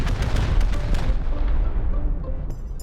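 Rockets slam into a base in the game Rust as a rapid run of heavy booms and blasts, loud and close, crowding together with no pause over a few seconds.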